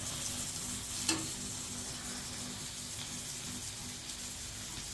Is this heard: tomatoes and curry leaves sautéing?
yes